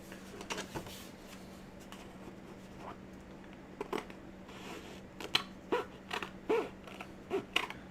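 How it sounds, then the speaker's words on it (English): Serrated scissors slide and cut through card stock in a quiet room, giving a series of faint, close raspy snips and scrapes that grow more frequent toward the end. "You can hear that serration and these scissors when I slide them up."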